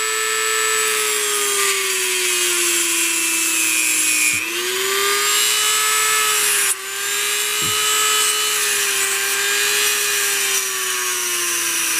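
A Dremel rotary tool shapes a small metal hatchet head with a loud, close, high-pitched whine and grinding hiss. The pitch sags slightly under load and breaks briefly twice.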